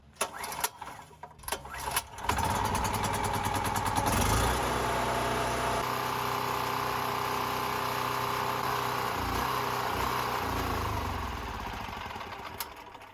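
A portable generator cranks with a few sputtering pulls, then catches and settles into a steady, moderately loud engine drone that runs on for several seconds before easing slightly near the end.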